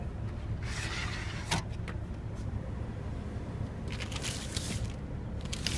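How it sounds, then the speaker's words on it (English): The trunk cover of a 2014 Range Rover Sport is pulled out, making short sliding, rustling swishes near the start and again near the end over a quiet background. "this trunk cover, which you can simply pull it out to cover the whole trunk"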